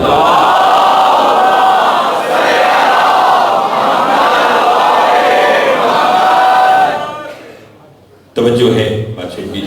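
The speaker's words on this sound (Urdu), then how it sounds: "صلوات اتنی بلند بھیجیے جتنی محمد و آل محمد نے طاقت عطا فرمائی ہے۔" A majlis congregation loudly recites salawat in unison, a dense roar of many voices sustained for several seconds before fading, then a single voice resumes speaking.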